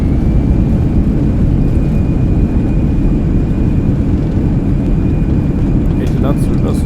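Airbus A320 engines roaring in reverse thrust after landing in a flight simulator, a loud, steady low rumble with a thin whine above it, ending with faint voice at the close.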